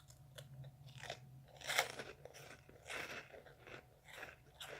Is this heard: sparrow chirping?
no